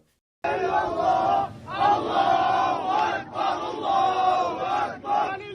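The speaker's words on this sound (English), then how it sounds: "there's a video which we're going to show you first of the crowd in Gaza" A large crowd in Gaza shouts together in rhythmic, chant-like bursts with brief pauses between phrases, loud and full, heard from a played news video.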